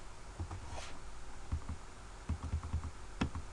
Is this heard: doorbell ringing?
no